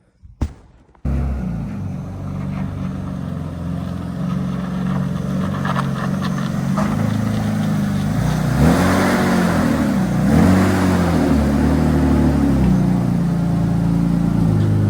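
BMW car engine running steadily as it is driven out of a garage, a loud continuous low hum with rising revs and a brief start at the beginning, close by with no talk.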